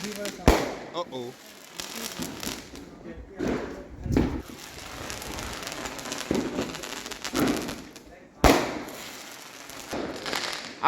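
Loud Diwali fireworks going off at night in East London: several sharp close bangs with crackling in between, distant pops filling the gaps and people talking underneath.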